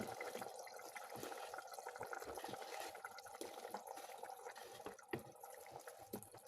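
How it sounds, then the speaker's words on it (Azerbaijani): Water bubbling in a cooking pot as potatoes go in, a steady busy wash of liquid noise with small splashes and clinks, fairly close and continuous without speech. "Gördüyünüz kimi belə suyumuz da qaynayır"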